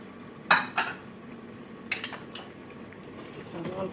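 Chicken frying in a pot with harissa and ghee being stirred, a couple of sharp utensil scrapes and clinks against the pot over a low sizzle, with a voice faintly in the background.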